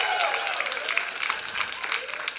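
An audience breaks into sustained applause, a dense wash of many hands clapping that holds steady throughout.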